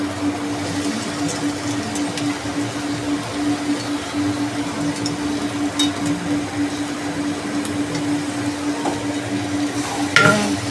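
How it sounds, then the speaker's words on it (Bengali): Kabuli chickpeas are stirred into a sizzling mutton masala in a pan, giving a steady close frying hiss with soft scraping and no talk, and a brief clatter near the end. "আমার মশলা কষানো হয়ে গেছে, আমি এবার কাবলি চানাটা দিয়ে দেব।"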